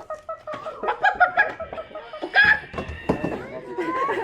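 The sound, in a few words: audience imitating chickens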